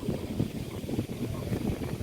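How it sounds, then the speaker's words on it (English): Strong wind buffets the microphone outdoors at the edge of a plot of land, a steady broadband roar with gusting low rumble throughout. "Windy, extremely."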